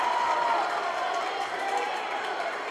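Steady crowd noise from spectators at a high school volleyball match between Rocky Mountain HS and Fort Collins HS, a continuous mid-level roar of cheering and chatter filling the gym.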